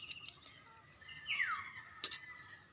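One-day-old chicks on a gamefowl farm: a faint, thin descending peep and a brief chirp over low background hum.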